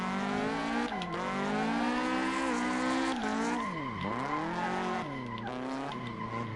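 A car drifts in Assetto Corsa with long, continuous tire squeal and a sliding engine tone that dips and rises, loud and close.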